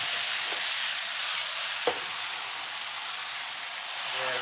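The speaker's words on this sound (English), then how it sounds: "we're going to saute those sliced mushrooms" Sliced portobello mushrooms sautéing in their marinade with no oil, a steady loud sizzle and crackle close by, constant throughout with a couple of brief stirring clicks.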